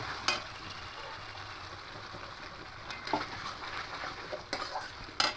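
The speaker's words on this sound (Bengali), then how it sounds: "এখানে দিয়ে খুব ভালো করে মিশিয়ে নেব আর এটা একটু মিডিয়াম আঁচে করতে হবে" Spice mix for a Katla fish rezala frying in a pan over medium heat, a steady sizzle with intermittent scraping stirs from a spoon, no voices.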